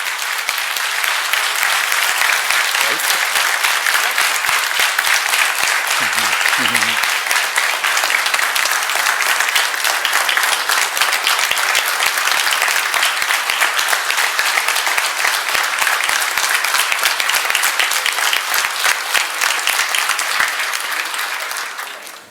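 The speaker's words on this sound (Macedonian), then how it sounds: "ќе ве замолам вечерва тука со еден громогласен аплауз" Sustained, loud applause from an audience at a political rally in a culture centre in Kriva Palanka, steady dense clapping for over twenty seconds, with a few faint voices briefly underneath.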